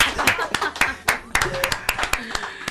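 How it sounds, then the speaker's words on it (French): A few people clap in a small radio studio, sharp individual hand claps in a loose uneven rhythm, close and dry, with voices talking between them. "Est-ce qu'on va pas applaudir?"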